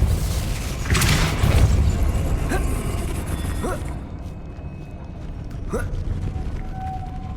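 Depulso repelling spell cast in the Hogwarts Legacy video game, a rumbling, creaking magical burst with a mechanical rattle over continuous game ambience, fading into quieter background after a few seconds.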